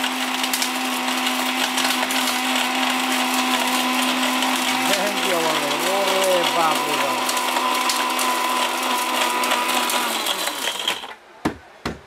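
An Orpat mixer grinder grinds turmeric, whirring loudly and steadily for about ten seconds, a voice briefly heard over it, then the motor cuts off and a few knocks follow.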